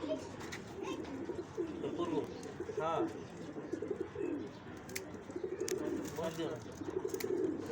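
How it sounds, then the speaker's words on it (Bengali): Brown-necked pigeons (also called red-necked) coo softly in a loft, with repeated low murmuring coos amid background chatter and bird noise throughout. "এটা খয়রা গলা কবুতর, কেউ কয় লাল গলা কবুতর।"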